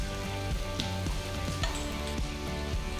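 Onions sauté in a pan with crushed ginger, garlic and curry leaves, giving a steady, close sizzle and crackle for a pepper masala. Background music plays underneath, and occasional stirring taps punctuate it.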